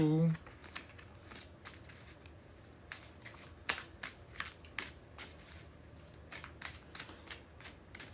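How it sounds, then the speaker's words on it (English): Tarot cards being shuffled by hand: a run of crisp riffling and card-slapping bursts, some sharper than others, spread through the passage at moderate loudness with faint background noise. "we need 3 more shuffles"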